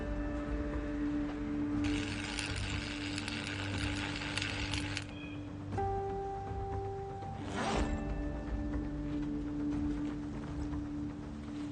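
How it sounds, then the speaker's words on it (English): A sustained hiss of welding in the video game Project Zomboid, breaking into a shed, running for a few seconds under a droning game soundscape with a brief swoosh later. "I will weld my way into the shed"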